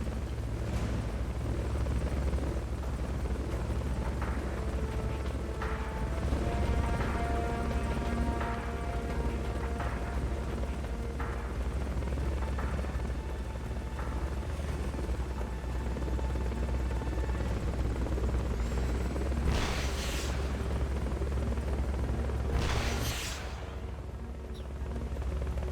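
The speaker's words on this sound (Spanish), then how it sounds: "¿Dónde se supone que está el helicóptero?" A helicopter in the Metal Gear Solid Peace Walker video game gives a continuous low rotor thrum with a steady buzzing drone, while short mechanical clicks and bursts sound over it.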